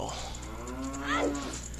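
A single drawn-out cow moo in the video game The Legend of Zelda: Majora's Mask, heard alone and fairly close over a soft steady background hum.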